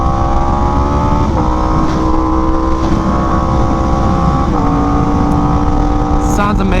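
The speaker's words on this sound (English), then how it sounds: "I've been asked like many times what exhaust I have on this bike, and it's a toast exhaust, 3/4, so no cats" A Yamaha R1M superbike with a Toast 3/4 exhaust and no catalytic converters roars loudly and steadily while riding, with a few pitch drops at gear changes over heavy wind noise.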